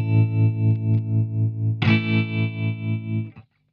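An electric guitar chord rings with a slow, regular pulsing swell in volume from a tremolo pedal, struck again midway, then cut off abruptly near the end.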